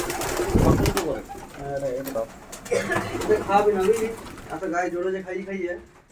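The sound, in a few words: Giribaz pigeons cooing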